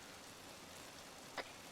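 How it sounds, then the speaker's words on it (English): Rain falling in the video game Arma, a steady even hiss of rainfall with one brief louder tap near the end. "I like how it's raining and there's no clouds."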